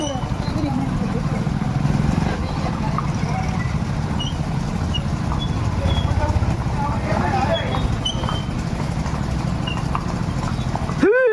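A horse pulls a cart on a night ride, its hooves clip-clopping in a steady rhythm under ongoing road and traffic noise, with people talking nearby.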